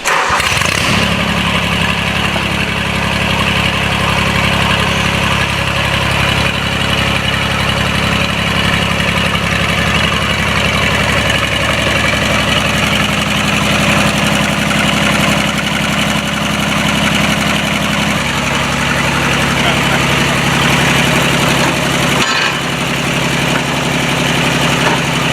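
A roughly 740 cc engine in a 1/2.4 scale Tiger II tank model cranks and catches, then settles into a steady rumbling idle that runs loud and close for the rest of the clip.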